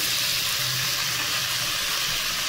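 White mustard seeds and poppy seed paste frying in a pan over a low flame, giving a steady, dense sizzle that holds evenly throughout with no talk.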